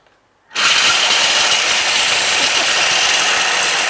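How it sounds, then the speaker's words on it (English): A Thermomix grinding chocolate at speed 7 starts abruptly after a short silence, then holds a loud, dense, rattling whir for about three seconds. "we'll put that on for 5 seconds at speed 7 to grate that up"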